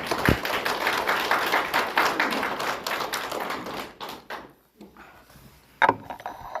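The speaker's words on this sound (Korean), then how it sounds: "이럴 때 박수를 한번 크게 쳐야 됩니다" A Korean Buddhist lecture audience claps at a monk's urging, a burst of sharp, close hand claps in quick irregular rhythm that thins and stops after about four seconds, leaving scattered faint taps and one last clap.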